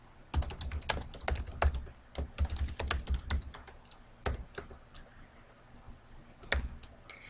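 A computer keyboard's Tab key is pressed repeatedly to jump between table cells, producing sharp, close clicks in an uneven rhythm with short pauses between bursts.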